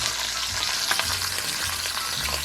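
Pot roast frying in hot oil in a pan, a steady broadband sizzle with faint crackles running continuously throughout, fairly close and with no talking over it.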